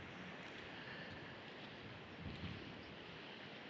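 Ocean surf rolls in a steady, faint wash of noise with a slight swell near the middle, broad and windy, with no voices.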